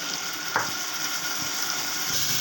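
Onions sautéing in a pan with salt, turmeric, cumin and chilli powder make a continuous hissing sizzle, with one quick stirring scrape early on and no talking.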